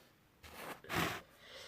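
A person with a cold sniffles in a few short, breathy bursts through the nose, close and fairly quiet, with no talking.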